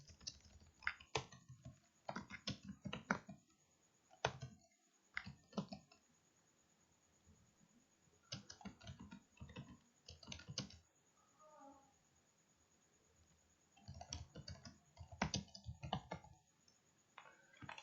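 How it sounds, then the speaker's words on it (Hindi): Quiet typing on a computer keyboard entering dummy text in Microsoft Word, bursts of rapid key clicks separated by short pauses, close and faint, no talk. "सपोज यहाँ पर मैं कुछ डमी टेक्स्ट लिखता हूँ"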